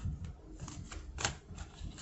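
Soft riffling and flicking of tarot cards being shuffled, with light papery taps and a couple of sharper snaps, close and quiet.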